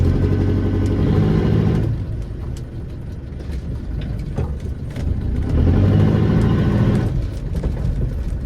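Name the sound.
1988 Land Rover 110 300tdi reversing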